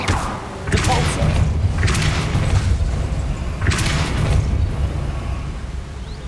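Bursts of the Depulso spell being cast in Hogwarts Legacy, each a loud thumping whoosh-boom, repeating three times at a steady pace over a continuous rumbling game soundscape.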